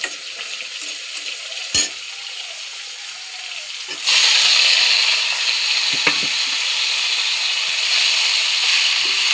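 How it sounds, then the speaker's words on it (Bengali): Radhuni seeds and green chillies tempering in hot oil: a steady close sizzle that jumps to a louder, bright crackling hiss midway as the chillies hit the oil, with a couple of sharp pops, no voices. "দেখো রাঁধুনি ফোড়ন দিয়ে দেবো। আর দিয়ে দেবো কয়েকটা কাঁচা লঙ্কা"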